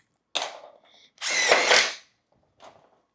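Makita power driver setting a fastener in thin metal: a short whir, a brief pause with a small click, then a louder, longer burst of motor whine under load, followed by a faint short blip at the end; close by, no talk.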